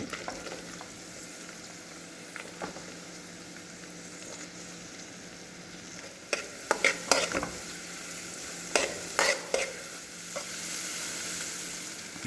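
Onions sizzle and fry in a pan for egg fried rice, heard close up as a steady hiss, with a run of sharp scraping and clattering stirring strokes partway through.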